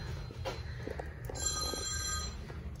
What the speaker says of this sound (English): Boyfriend's phone is ringing already.